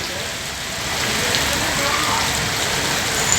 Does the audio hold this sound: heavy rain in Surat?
yes